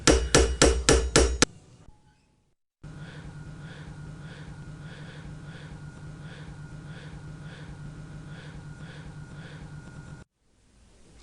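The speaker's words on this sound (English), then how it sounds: "You just have to move your hands and hammer at the same time" A quick burst of sharp metallic hammer blows on silver being raised into a vase, then a long stretch of steady rhythmic tapping on metal, close up with no voices.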